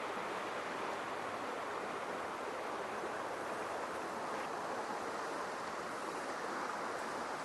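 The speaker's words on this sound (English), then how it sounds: "the water's moving pretty fast" Fast-moving water of the Klondike River in the Yukon rushes in a steady, broadband roar, close and continuous, with no voices over it.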